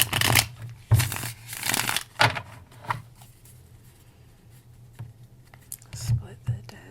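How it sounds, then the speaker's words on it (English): A deck of tarot cards is shuffled close by in several quick riffling bursts, with a few soft taps and quiet handling in between. "I'll shuffle one more time and get some tarot out."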